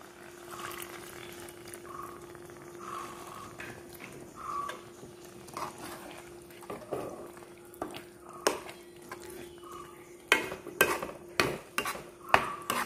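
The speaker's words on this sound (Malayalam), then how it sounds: "ഈ പാൽ ഒഴിച്ചു കൊടുക്കുക." Milk being poured into a Kerala-style dish of softened banana and then stirred, with quiet liquid sounds giving way to clinking spoon-on-pan scraping and taps, close and alone.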